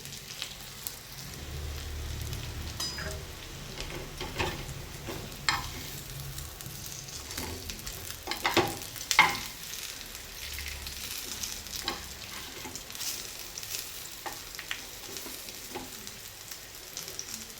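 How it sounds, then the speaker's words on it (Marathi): A sandwich toasting in a pan on all sides gives a soft, steady frying sizzle with a few louder crackles, close by and at low level. "अशा पद्धतीने सगळीकडून छान भाजून घ्यायचे आहे."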